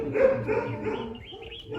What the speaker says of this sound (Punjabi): ਕੁੱਤੇ ਇਹਨਾਂ ਨੇ ਬੜੇ ਰੱਖੇ ਹੀ